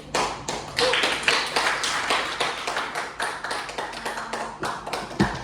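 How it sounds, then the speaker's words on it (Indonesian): A small group claps in quick, uneven bursts at a thesis defense session, close and fairly loud, the applause rising and fading over several seconds. "Sebelumnya tepuk tangan dulu."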